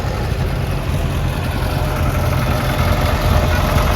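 A vintage tractor engine idles and rumbles close by at a steam engine rally, steady and throaty, a continuous low drone with a slight rise in intensity toward the end.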